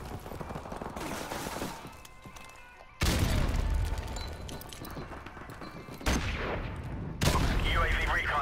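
Grenade blasts and bursts of automatic gunfire in Call of Duty Modern Warfare Remastered, with loud thumping hits starting around three seconds in and sharp jumps near six and seven seconds over a steady din of combat.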